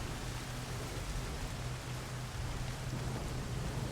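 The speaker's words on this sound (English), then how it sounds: "the double effect from the rain going against the window next to my left ear" Steady, dense rain hisses throughout, blending rainfall in the Nioh video game with rain striking a nearby window, a continuous wash of noise with a low rumbling underlayer.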